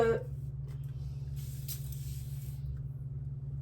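A few short hissing sprays from a spray bottle onto hair over a towel, quiet and close, over a steady low hum.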